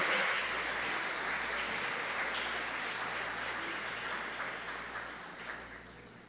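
Audience clapping at a ceremony launching a state integrity plan, steady broad applause from a crowd that slowly fades toward the end, heard without speech over it.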